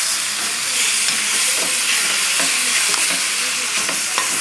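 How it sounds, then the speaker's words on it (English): Chicken and chicken sausage sizzle loudly in olive oil in a pan, a dense steady frying hiss broken by repeated scrapes and clicks of stirring. "I'm going to stir this for the next 5-6 minutes so it cooks nice and even"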